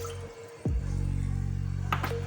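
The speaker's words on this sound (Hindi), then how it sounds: "अब इसके अंदर जो 1 कप पानी हमने लिया था उसको ऐड करेंगे" A cup of water poured into a pan heated over a medium flame, a sudden splash followed by a steady, close sizzling hiss and bubbling that continues to the end.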